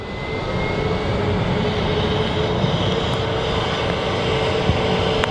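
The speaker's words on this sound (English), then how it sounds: "An EasyJet A320neo." An EasyJet Airbus A320neo jet airliner at Manchester Airport gives a steady, broad engine rush at moderate distance, holding evenly through the short stretch without voices.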